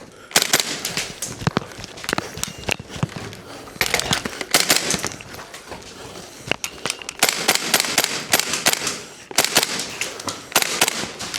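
A KWA Lithgow Arms F90 AUG gas blowback airsoft rifle firing, with sharp close cracking shots in quick strings and bursts separated by brief pauses.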